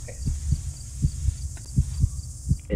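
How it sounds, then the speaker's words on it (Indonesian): A heartbeat in the horror game DreadOut thuds steadily, about two beats a second, low and throbbing over a faint high ambient hiss. "Tiba-tiba deg-degan jantungnya"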